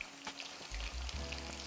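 Onion pakora frying in hot oil as the pieces are turned, a soft close sizzle with a couple of quick bubbling surges and light crackle, no speech.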